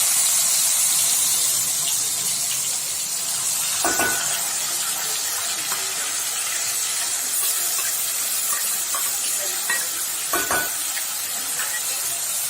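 Crushed onion fries in a pan with a loud, continuous hissing sizzle, and two sharp clatters of a utensil on the pan stand out; no one speaks.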